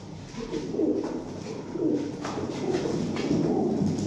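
Male and female breeder quails call from their pens, soft low repeated coo-like notes at close range, coming in uneven bursts over a steady background hum.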